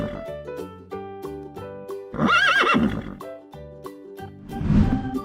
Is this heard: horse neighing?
yes